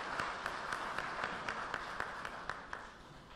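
An audience at an engineering awards ceremony applauds, a modest, fairly distant round of clapping with a rhythmic beat that tapers off.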